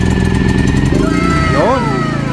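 A Philking inverter generator rated 2,300 watts starting and 2,000 watts running hums steadily after being pulled to start, a fairly quiet engine tone that continues while someone talks over it.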